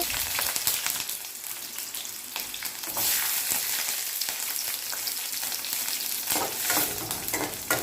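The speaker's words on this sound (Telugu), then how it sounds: "పచ్చిమిర్చి వేగేంత వరకు కలుపుతూ ఉండాలి" Green chillies frying in hot oil in a pan for a cabbage chutney, a steady loud sizzle with scraping stirring strokes throughout, close up and without talk.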